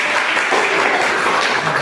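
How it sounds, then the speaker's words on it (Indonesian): Brief, loud burst of dense clapping from a class group applauding a student named Ahmad, close and continuous. "Tepuk tangan untuk Ahmad ya."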